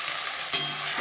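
Spice paste hits hot oil in a pan for a prawn, papaya and potato curry, giving a steady close sizzle with a brief sharp spatter midway.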